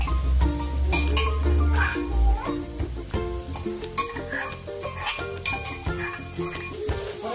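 A spoon stirs potatoes in a hot pan, giving repeated close, loud metallic clinks and scrapes over a light sizzle of frying.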